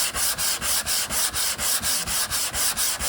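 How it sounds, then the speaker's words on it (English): Hand sanding a body panel on a 1983 VW T3 Vanagon, with a rhythmic back-and-forth scratching rasp, roughly a dozen even strokes close up, no voices. "You'll start to see I'm not sanding that flat at all."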